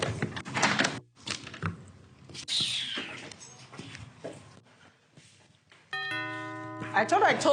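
A doorbell chimes at the front door of a house near the end, a clear ringing tone that follows voices, footsteps and door movement.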